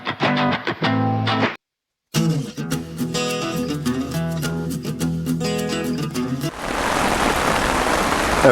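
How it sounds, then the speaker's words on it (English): A steady hiss of rain falls outdoors at a lake in France, coming in loud and close at the end after a stretch of other layered sound with a short silent gap. "We have a bit of rain again this morning."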